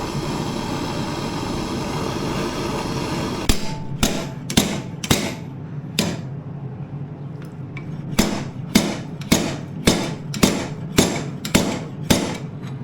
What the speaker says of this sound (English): I had to heat up the damaged area and pull it out with a heavier slide hammer